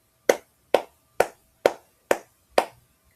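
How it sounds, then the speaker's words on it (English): One person claps hands six times at a steady, even pace, each clap sharp, close and distinct, with quiet gaps between them and no talking. "I'm going to have to clap for them."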